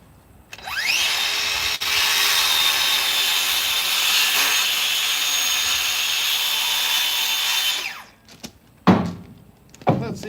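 A power tool trims a heel on a piece for a horsefly trap being built by hand. It makes one loud, sustained cutting whine that lasts about seven seconds, followed by a few short knocks and handling sounds.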